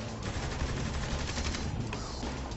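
Rapid bursts of gunfire in Saints Row: The Third crackle continuously, loud and dense, with no talking.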